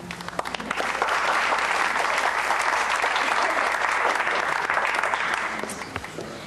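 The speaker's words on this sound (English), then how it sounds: "Would you give a warm round of applause" A live audience gives a warm, full round of applause for a performer being introduced, the clapping swelling quickly and holding dense and steady for several seconds before tapering at the end.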